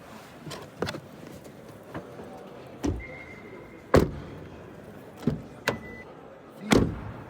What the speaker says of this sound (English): not the greatest sound because the rear doors are super light